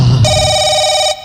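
A telephone on stage in a Fatehpur nautanki folk-theatre performance gives a single loud, bright electronic ring lasting about one second, abrupt at both ends, close and clear with no talk over it.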